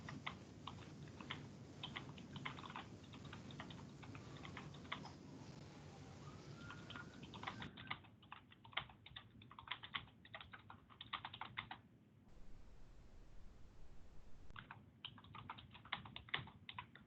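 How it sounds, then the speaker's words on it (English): Steady typing on a computer keyboard during an online committee meeting, heard as dense, close, quiet clicking with short pauses and shifts in background hum. "Sorry, I'm not very quick typer."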